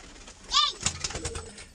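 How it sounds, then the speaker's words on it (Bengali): A female Lal Jiriya pigeon gives a short, close coo, then soft rustling and faint background noise follow. "এটা মাদি পায়রা"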